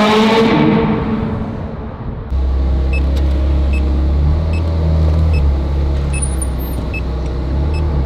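A modified Range Rover Sport idles with a deep, steady low rumble that grows louder and fuller partway through, close by and continuous, with no one talking over it.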